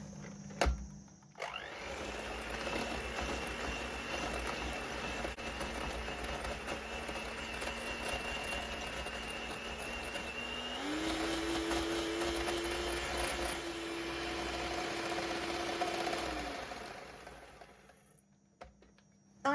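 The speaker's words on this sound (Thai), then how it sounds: "เร่งสปีดเป็นสปีดกลางนะคะ แล้วก็ตีต่อจนกว่าเนยจะขึ้นฟู" An electric mixer beats butter and sugar for coconut cookies with a steady, close motor whine. Partway through, its pitch steps up as the speed rises to medium, then it runs on evenly before stopping. No one speaks.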